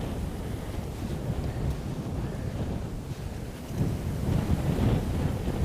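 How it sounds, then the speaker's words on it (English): Crosswind buffets the microphone on a cycling path near Seoul, a steady loud low rumble of wind noise that swells slightly toward the end, with no talking. "Looks like we're gonna be a little crosswindy for a while up here."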